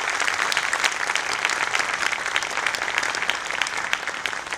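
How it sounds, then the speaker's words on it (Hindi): An audience at a company fourth-anniversary event claps loudly and continuously, dense applause filling the whole stretch with no speech over it. "एकमन के मैनेजमेंट को जोरदार तालियां बजा दो"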